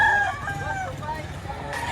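Bull stag roosters at a Batangas chicken market give a loud, drawn-out crow up close, with clucking and murmuring voices underneath.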